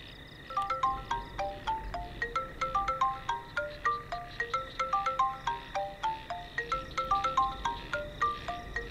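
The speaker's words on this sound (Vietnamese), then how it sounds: "Chị hai à, em đi nghe điện thoại một chút nha." A mobile phone ringtone plays a repeating bright electronic melody of quick plinking notes, steady and clear over a quiet room in a Vietnamese drama scene, with no voices.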